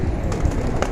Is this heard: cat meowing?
no